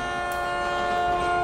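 A train sound effect plays alone: a loud, sustained horn-like tone over continuous rolling rail noise.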